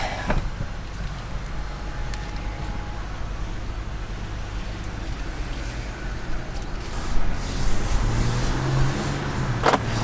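Jeep Gladiator truck cruising on the road, a steady low cabin rumble with soft road noise and a few faint bumps and clicks, quiet and smooth throughout.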